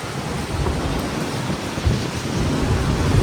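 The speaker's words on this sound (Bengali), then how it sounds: "যদিও এখন বৃষ্টি শুরু হয়ে গেছে হাওয়ার সাথে, দুর্ধর্ষ হাওয়া চলছে" A strong wind and rain storm: a continuous roar of gusting wind with a rushing, broadband wash, loud and close, building slightly toward the end with no voices.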